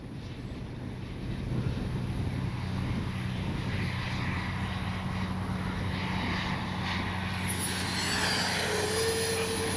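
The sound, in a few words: RC jet airplane Top RC Swift coming in to land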